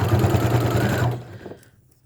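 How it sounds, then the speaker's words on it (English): A Brother PE770 sewing machine top-stitches a tote bag in a steady buzzing run that stops after about a second, leaving only faint settling noise. "I am just sewing it, sorry, very slowly."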